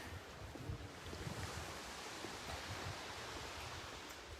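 Sea waves washing steadily at a Mediterranean bay near the old fisherman's cove of Moraira, Spain, a continuous broad surf hiss with wind, no voices.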